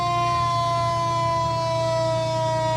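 Heavy rescue fire truck Rescue 708 passing in a Conneaut Lake Pumpkinfest parade, its siren holding a loud, steady, sustained wail with a low engine rumble underneath.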